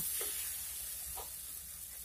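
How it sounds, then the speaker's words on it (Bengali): In a pan of nut paste for niramish labra, a vegetarian mixed-vegetable dish, a faint soft sizzle runs throughout, broken by two gentle stirring scrapes. "এখন আমি একটু নাড়িয়ে এর মধ্যে সবজিগুলি দিয়ে দেব"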